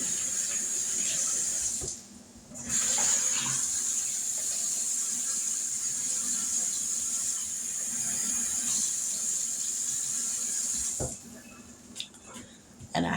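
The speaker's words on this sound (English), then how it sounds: "wash that sugar off my hand now" A kitchen tap runs steadily as brown sugar is rinsed off a hand while making crockpot apple butter, a close hissing water stream that briefly stops and restarts, with a voice talking over it.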